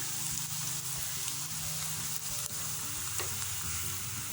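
Tikki snacks fry in hot oil with a steady, dense crackling sizzle, close and continuous throughout, with occasional small pops and no talk over it.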